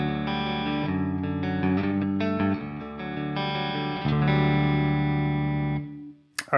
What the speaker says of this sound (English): Let's go ahead and put that in the middle position and coil tap it.